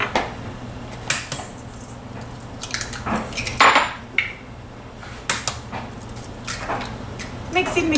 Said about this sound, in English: I'm mixing the almond flour, cinnamon, sweetener, and baking powder.